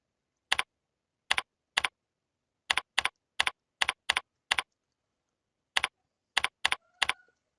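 Computer keyboard keys tapped to type a file name, about fifteen sharp, isolated clicks in uneven bursts separated by silence, close and clear.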